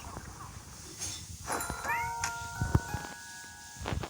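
A cat meows a few times at close range, its drawn-out calls rising and falling among light rustling, with a voice briefly heard nearby.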